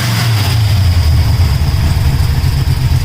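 A rebuilt Demon 850 carburetor on an Oldsmobile 350 V8 idles loud and close, a steady low rumbling lope with a constant high whine on top and no revving.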